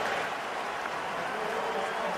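A football stadium crowd at a Rams–Browns game cheers in a steady, broad roar, loud and sustained throughout, with a voice speaking over it.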